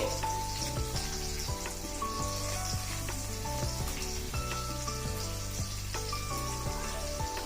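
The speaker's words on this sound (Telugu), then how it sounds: "ఇవన్నీ కూడా మీడియం ఫ్లేమ్ మీద వేగనియ్యండి" Sliced white onions fry on a medium flame with a steady, continuous sizzle, partly masked by loud background music throughout.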